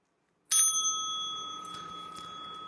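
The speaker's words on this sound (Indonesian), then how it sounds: "Bel." A single bell is struck once, a sharp bright ding that rings on with a clear sustained tone slowly fading, isolated after a moment of silence.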